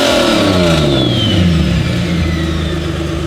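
A freshly turbocharged Holden VL Commodore wagon, loud and close, its engine revving hard and pulling through the gears with a rising whine over a deep, steady roar.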